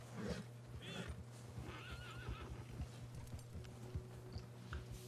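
A horse neighs and whinnies in Red Dead Redemption 2 Online, with clip-clop hoofbeats and a steady game ambience beneath, the whinny rising clearly near the middle.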